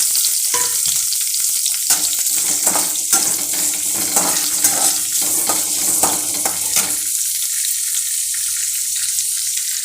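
Onion, mustard seeds, dal, garlic and dried red chilli fry in a pan for a chow chow kootu, giving a steady close sizzle with scraping stir strokes and light clatter throughout, with no talking.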